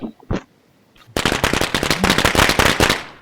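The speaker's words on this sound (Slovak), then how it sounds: "To je tiež koberček, ale dlhší, ale aj s väčšími petardami." Firecracker carpet of larger firecrackers going off in the Roblox video game: a long, dense rapid string of loud cracking bangs after a few scattered pops, continuing to the end.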